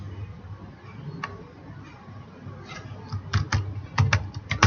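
Rapid clattering keystrokes on a computer keyboard while entering data into an Excel spreadsheet, soft at first and growing louder in quick bursts toward the end.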